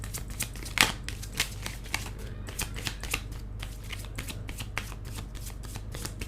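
Tarot cards are shuffled by hand in a steady series of crisp, riffling flicks and slaps. Each burst is close and clear over a quiet low hum, with one louder snap near the start.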